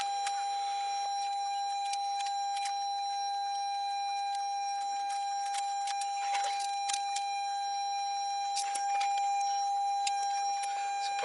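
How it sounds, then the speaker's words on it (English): A 2019 Toyota RAV4 Hybrid's warning buzzer sounds with the parking lights unplugged, a steady high electronic tone holding unbroken throughout, with faint clicks and handling noises scattered over it. "The annoying buzzer will go off the whole time this is unplugged because it thinks that the lights are on."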